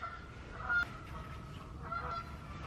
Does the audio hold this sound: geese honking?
yes